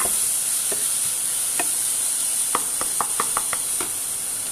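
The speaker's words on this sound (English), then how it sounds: "You can hear the sizzle." Lauki (bottle gourd) hisses steadily in a hot pan, a constant bright sizzle broken by scattered soft pops and clicks from stirring.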